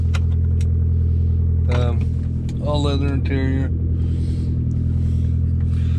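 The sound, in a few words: loud car exhaust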